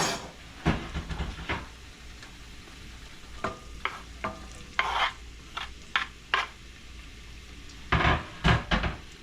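Garlic and onions sauteing in a pan give a faint steady sizzle, broken by sharp stirring scrapes and utensil clatter that come in bursts, loudest near the end.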